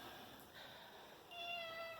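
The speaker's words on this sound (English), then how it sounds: "The cat says we're done." A cat gives a single faint, drawn-out meow in a quiet room, with its tone rising and holding near the end of the short stretch.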